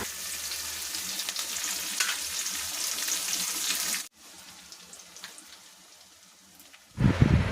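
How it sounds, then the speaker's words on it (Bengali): Onions lightly frying with salt in a pan for chicken kosha, a steady hissing sizzle that drops quieter midway and then flares louder near the end, with no talk. "তো এবার পেঁয়াজটা হালকা ভাজা হয়ে যাক"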